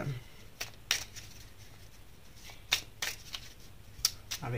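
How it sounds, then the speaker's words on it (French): Tarot cards are shuffled and drawn at close range, a run of crisp riffling snaps and soft slides in irregular bursts over a quiet background. "On va clarifier un peu les cartes avec"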